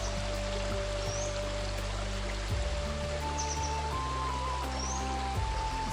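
Clear, fresh water flowing in a small stream, a steady broadband rush and trickle close by, with faint birdsong chirps above it and no talking.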